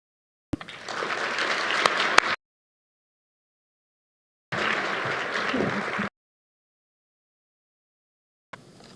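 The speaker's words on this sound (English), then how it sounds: "Your applause, please, for Sonia Garcia" Audience applause at an award luncheon: two separate bursts of steady clapping from a room full of people, each lasting a couple of seconds with silence between, then a brief third burst starting at the end.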